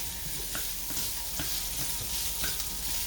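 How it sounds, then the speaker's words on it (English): Italian sausage sizzling steadily in a frying pan, a close, continuous crackling fry with occasional stirring scrapes, no voices. "this is our Italian sausage. It has browned up nicely."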